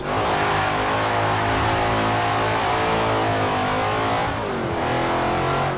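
A car engine in Forza Horizon 4 revs hard after the clutch is dropped, holding a loud, steady, close roar with shifting pitch throughout and easing slightly near the end.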